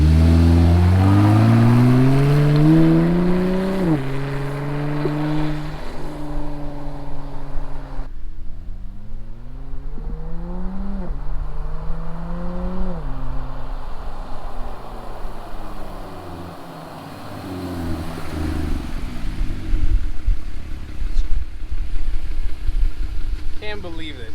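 A Jeep Wrangler JL with a Magnaflow exhaust pulls away from a standstill with a manual gearbox, its engine revving up through several gears, each rising roar cut by a shift, then easing off before revving again.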